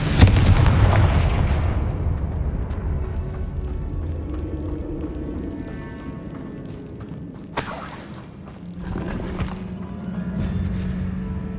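Explosive spell blasts in Hogwarts Legacy on PS5, a booming burst early followed by a sharp crackling impact midway, over a dense rumbling game soundscape with music.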